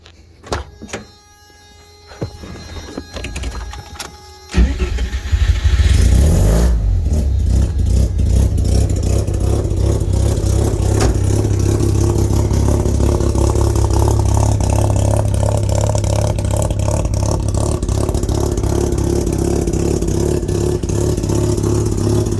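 A 1994 Mazda Miata with a swapped 13B rotary engine and a Racing Beat Holley carburetor cranks with clicks and clatter, fires up after a few seconds and then idles and revs loudly and continuously, close by.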